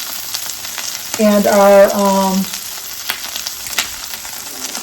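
Red wine poured into a hot soup pot, a loud sizzle under a steady background hiss, with a short tonal hum in the middle and brief speech near the start.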